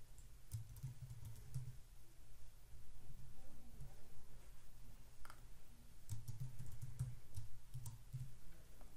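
Username and password typed on a computer keyboard, with faint, quick clusters of key clicks in a quiet room, pausing briefly in the middle before more bursts of tapping.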